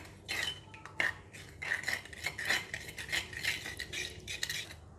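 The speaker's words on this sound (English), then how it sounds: "Give it a mix" Utensils toss and stir Thai glass noodle salad (yum woon sen) with seafood and freshly added lime juice, making repeated light clinks and scrapes against a bowl in an irregular rhythm, close and fairly quiet.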